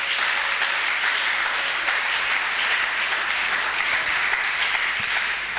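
A church congregation applauds, with steady, dense clapping that fills the room from start to finish and no break.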